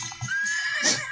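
A horse neighs in the SpongeBob Cosmic Shake video game: a single clear, rising whinny with a few soft hoof clops before it, close and fairly quiet.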